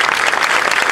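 Brief burst of dense crowd applause at an outdoor memorial gathering in Plaza de Mayo, loud and continuous throughout.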